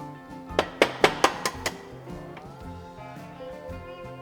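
A normal-size chicken egg is cracked: six sharp, evenly spaced taps against a hard edge, close and distinct, then quieter faint clicks and handling sounds.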